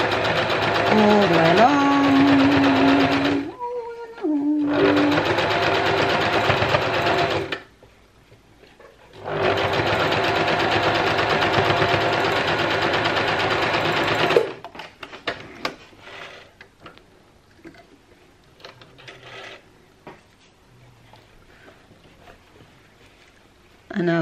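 A sewing machine runs in two long bursts of steady stitching along the bottom seam of a contoured fabric face mask, with short pauses between, while someone talks briefly near the start and faint handling noises follow.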